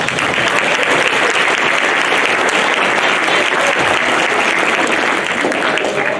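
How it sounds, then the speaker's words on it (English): Loud, sustained applause from a school concert audience for a middle school sixth grade band, dense and steady clapping filling the hall without a break. "give our sixth graders another round of applause"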